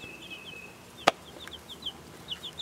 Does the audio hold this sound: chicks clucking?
yes